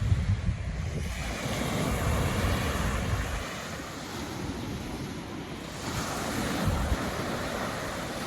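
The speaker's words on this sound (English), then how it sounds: "Check those waves out, eh?" Ocean surf rolls and breaks on the shore at Kouchibouguac National Park, a continuous wash of waves with wind buffeting the microphone and low rumbling surges, no voices.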